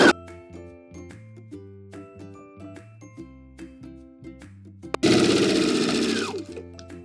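Sewing machine stitching bias binding onto a clear raincoat seam: a loud, fast continuous motor whir starts abruptly and runs for about two seconds after a stretch of soft background music.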